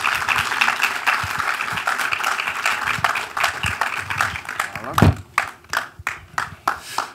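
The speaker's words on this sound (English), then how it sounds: "Let's welcome him with a round of applause." An audience claps loudly for several seconds, the clapping thinning out into a few scattered, separate claps toward the end.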